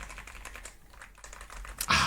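Typing on a YUNZII AL66 mechanical keyboard fitted with ABS keycaps, producing a quick, steady run of close, thocky key presses that briefly pauses and then ends with a louder clack.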